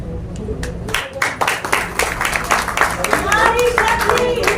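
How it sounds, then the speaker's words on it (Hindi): A group of women clapping in welcome at a community political gathering, sharp irregular claps rising and overlapping, with voices talking over them. "नारी शक्ति तालियां बजाकर आपका स्वागत करती है"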